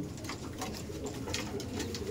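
Abluk pigeons cooing in a loft, a continuous low murmur of soft, close coos with no talk.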